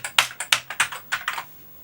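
Keys pressed on an Amiga A600 computer keyboard, one with several dead keys, giving about nine quick plastic clicks in an uneven burst, close and clear, then stopping.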